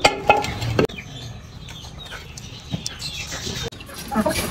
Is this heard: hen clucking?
yes